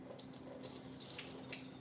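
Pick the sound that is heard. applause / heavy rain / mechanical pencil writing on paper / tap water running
tap water running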